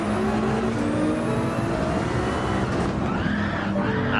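A race car in Gran Turismo 7 accelerating hard, its engine note climbing through gears with tyre squeal, loud and close throughout with no talking.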